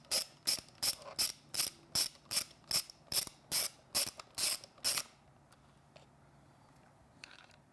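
A hand ratchet turns out a screw on a Triumph Street Twin handlebar with about a dozen evenly spaced, crisp clicks up close, then quiet with a faint metallic touch near the end.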